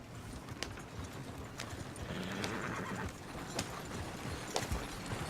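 Horse hooves clip-clop steadily while a horse whinnies in the video game Red Dead Redemption 2, with faint mechanical clatter in the background.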